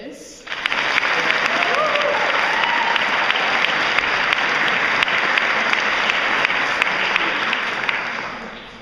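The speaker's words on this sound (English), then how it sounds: "And how about a round of applause for Chief Justice Rachel Brocious?" Applause from an audience at a youth model legislature awards ceremony breaks out suddenly and holds as a loud, dense, continuous ovation filling the room, tapering slightly at the end.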